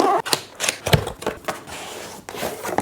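Gemilai 15 bar espresso machine (model 3007L) being unboxed: close, irregular crinkles, rustles and sharp clicks of packaging handled in quick bursts, with no voice.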